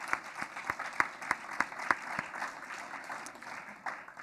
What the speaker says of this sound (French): Donc, on les applaudit.